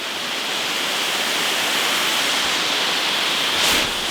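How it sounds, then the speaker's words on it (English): Hidden waterfall beside an old church, a loud, steady rush of falling water that fills the whole stretch, with a brief swell near the end. "Yeah, so that's been the waterfall."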